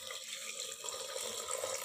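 Water pours from a tap into a cooking pot of potatoes and peas being made into a curry, a steady close-up rushing splash that continues evenly without talk.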